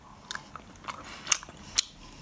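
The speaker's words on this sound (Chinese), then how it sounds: "算了，一口把它吃掉吧，一口吃掉三个。" Mouth-close chewing of popping gummy candies with fruit filling, soft squishy bites broken by a few sharp crisp pops over a couple of seconds, no talking.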